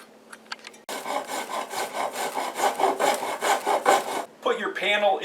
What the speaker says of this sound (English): If you need to cut down the length of the extension panel, mark it and then cut it with a hacksaw.